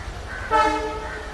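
A goods train at a level crossing in Alappuzha sounds a loud, steady multi-tone horn that starts abruptly partway through and holds to the end, over a low rumble of the passing rail traffic.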